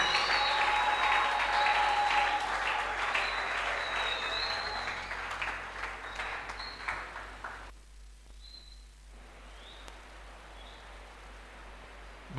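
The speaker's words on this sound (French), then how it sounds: "nous acclamons très fort pour le Seigneur" A church convention audience applauds loudly and steadily for several seconds. The clapping fades to a quieter patch near the end, with a faint high tone above it.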